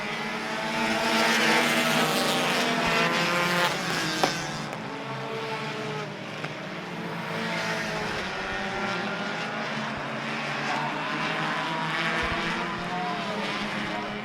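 Race cars lapping at Citrus County Speedway, a continuous loud engine roar that swells and fades as the field passes, with faint commentary voices underneath.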